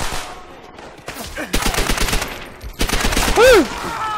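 Gunfire in Call of Duty: World at War on Xbox 360, bursts of machine-gun fire mixed with explosions and battle noise, loud and dense, with a whistling tone sweeping near the end.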